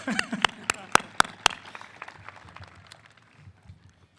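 Applause at a high school graduation ceremony, a few sharp claps at the start and then a looser patter that fades over about four seconds, fairly faint and distant in a large hall.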